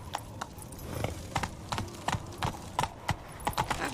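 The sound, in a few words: horse galloping in The Witcher video game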